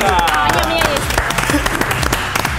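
Audience applause for a group of young women on a comedy show stage, loud dense clapping with a voice speaking over the start and a music bed underneath.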